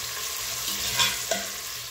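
Sliced large onions, about 150 g, tipped into hot spiced oil in a pan for white kuska, giving a steady close sizzle with a couple of brief stirring clatters near the end.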